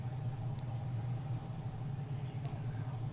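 A drift car's engine holds a steady low rumble through a qualifying lap at round 5 of the Klutch Kickers $100,000 Drift Series, continuous and fairly loud with no sharp revving peaks.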